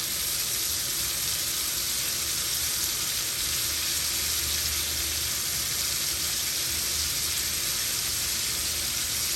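Scallops sear in a hot pan, giving a loud, steady sizzle that holds without a break and with no voices over it.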